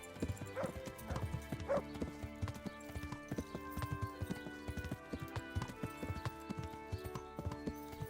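Horse hooves clip-clop in a steady walking rhythm through Kingdom Come: Deliverance, mixed with game ambience and a brief whinny, fairly close and continuous.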